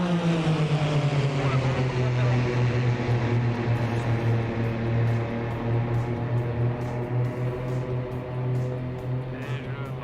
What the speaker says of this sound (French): derrière vous reviennent les trois avions de la patrouille Reva virtuelle